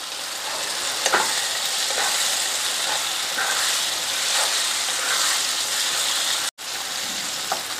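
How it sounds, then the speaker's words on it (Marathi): Tomatoes and chopped coriander sauté in a pan for a chicken sukka, giving a steady close sizzle and hiss with occasional soft stirring scrapes and no talk. "टोमॅटो मी पुन्हा 2 ते 3 मिनिटं चांगला परतून घेणार आहे।"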